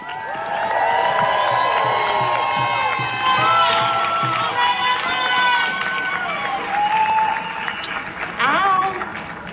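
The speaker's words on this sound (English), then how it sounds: "Let's give a round of applause for the Equity Alliance and TURC." Rally crowd at a No Kings protest in Nashville cheers and applauds, a loud sustained roar of clapping with whoops and shouts, voices rising over it and a burst of claps near the end.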